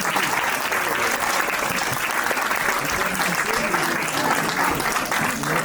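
An audience at a volunteers' evening hosted by the Melun town hall gives steady, dense applause for the eighteen-member youth council as they come up on stage, the clapping sustained and even throughout.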